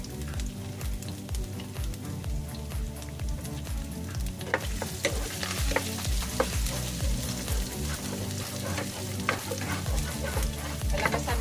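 Ginger frying in a pan for squid adobo, a steady sizzle with repeated stirring and scraping strokes running throughout at moderate level, no talking.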